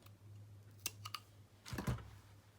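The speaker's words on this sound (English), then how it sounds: "So I'm just going to cut this open" A bracelet is cut open for a planner charm, with a few sharp snips and clicks around the one-second mark and then a louder crunching cut near two seconds, close up and with no talking.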